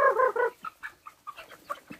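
Chickens cluck in quick close bursts as they are brought back into their coop after disinfection, a few rhythmic clucks first, then scattered short calls from several birds.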